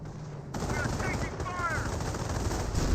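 Sustained machine-gun and rifle fire crackle in a Company of Heroes battle, including an M2 barrage, loud and continuous for the whole stretch, with faint voices beneath the gunfire.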